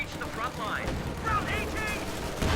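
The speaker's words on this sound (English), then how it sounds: "Anti-tank gun gets a shot off on the Sherman as it moves towards the south." Battle sounds from a WWII strategy video game, with an anti-tank gun firing at a Sherman tank, as dense rumbling gunfire and mechanical noise with a sharper report near the end.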